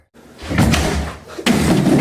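A door slams hard, followed by a second loud heavy slam, both close and booming with no speech.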